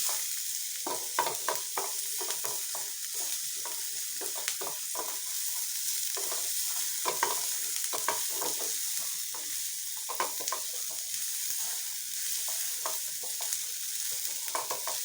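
Onions frying in a pan for a homemade pizza topping, a continuous soft sizzle with frequent quick scraping stirs throughout, fairly quiet and close, with no voices.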